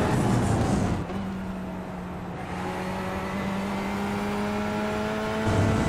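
A loud GT3 race car engine in iRacing, a sustained steady drone with a clear droning pitch that dips briefly then holds, swelling louder again at the end, with no talking.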